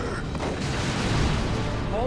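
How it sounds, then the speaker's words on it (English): A fragmentation grenade explodes in the Dawn of War 2 video game amid continuous booming battle noise and gunfire, with a voice speaking over the loud din. "If Fragmentation Grenade does miss."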